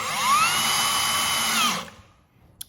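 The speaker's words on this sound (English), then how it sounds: "the drill's gonna stop driving when it gets to the point of contacting the bottom of the countersunk hole" A power drill whines steadily as it drives screws into countersunk holes in wood, its pitch rising slightly before the motor cuts off abruptly, leaving near silence and a final small click.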